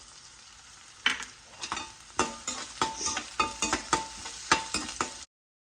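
Onions and garlic frying in a pan for kothu parotta, with a steady sizzle under repeated scraping and clinking strokes of a spatula in irregular bursts, close and clear, with no voices.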